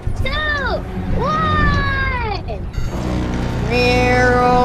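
A cat meows loudly and close up, giving several long drawn-out wailing calls, some rising and some falling in pitch, nearly one after another.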